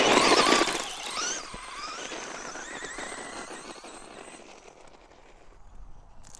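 A Traxxas Stampede 2WD brushless RC truck launches with a loud, sharp burst of high electric motor whine that climbs in pitch. The whine then fades steadily as the truck speeds away, with no talking.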